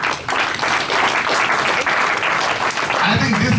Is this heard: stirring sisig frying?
no